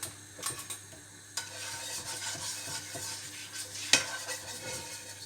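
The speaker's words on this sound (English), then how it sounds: "Right, this should hopefully sizzle quite nicely." Ingredients sizzle steadily in oil in a pan for a spiced kasundi, a continuous close hiss with faint stirring scrapes and one sharper clatter of utensil on pan near the end.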